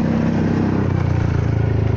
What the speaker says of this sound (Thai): โอ้เสียงดุดันอีกแล้วฮะเอ็กแม็กซ์